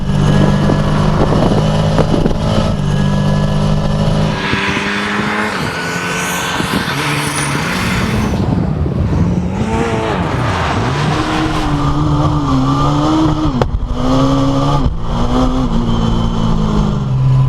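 A 600 hp Ford Escort Cosworth rally car engine revs hard and close, rising and falling through sharp climbs and gear changes in a loud, continuous roar with no talk over it.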